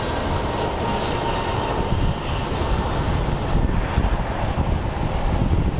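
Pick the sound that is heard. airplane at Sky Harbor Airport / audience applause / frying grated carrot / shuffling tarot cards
airplane at Sky Harbor Airport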